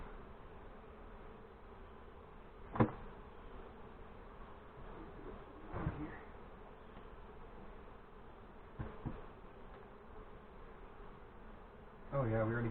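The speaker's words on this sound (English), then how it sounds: "we already got thousands of bees at the top there" Honey bees hum faintly and steadily around a newly installed nuc hive in northern Michigan, a soft continuous drone outdoors with occasional handling knocks and a voice starting near the end.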